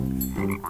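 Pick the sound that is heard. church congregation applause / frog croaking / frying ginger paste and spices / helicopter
frog croaking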